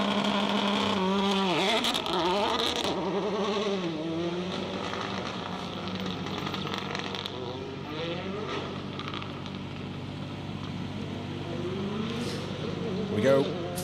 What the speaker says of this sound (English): We go, first car into stage then for the last stage of the day.